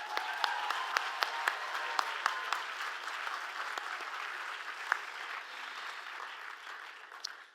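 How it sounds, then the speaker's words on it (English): Audience applause for the lead sponsors at a children's charity benefit gala, a steady sustained clapping crowd with a few sharper individual claps standing out near the start, fading slightly toward the end. "let's give a big round of applause to all our lead sponsors"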